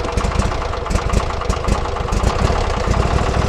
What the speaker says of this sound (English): we're going to depress the clutch lever, and then we're going to go ahead and turn the ignition.